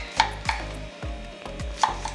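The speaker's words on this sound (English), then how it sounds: "so don't judge my chopping skills" Kitchen knife chopping vegetables on a cutting board for a vegan stir fry, about six close, crisp thuds at an uneven pace with no talking.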